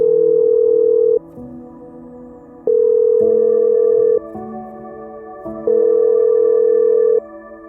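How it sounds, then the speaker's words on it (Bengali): A phone call ringback tone: a steady electronic tone repeating in even on-off cycles, about a second and a half each, loud and alone with no voices. "কিছুক্ষণ অপেক্ষা করার পর মাধবী আবার ফোন করলো মুকেশকে।"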